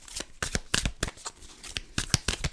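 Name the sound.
shuffling a deck of tarot cards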